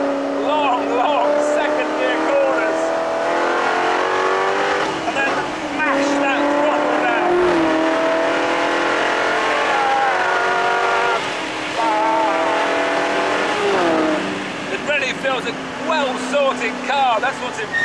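A South African-built Noble SPF GT40 sports car is driven hard around a racing circuit, its engine droning loudly and steadily with shifting pitch through gear changes and braking, while someone talks over it almost throughout.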